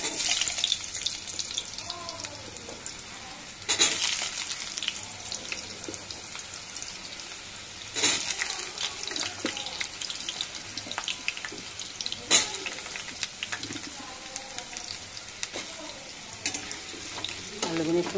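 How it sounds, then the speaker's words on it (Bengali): Potatoes frying in hot oil give a steady, close sizzle with louder bursts of crackle every few seconds as they are stirred, and a faint voice is heard in the background. "তেলের মধ্যে আলুগুলো দিয়ে দেবো।"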